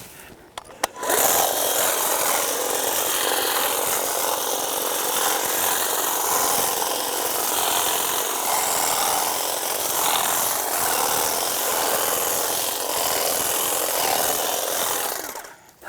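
Electric hedge trimmer and electric chainsaw cutting back brush outdoors at a hunting spot, a loud, steady buzzing drone running almost without break for about fourteen seconds before stopping abruptly.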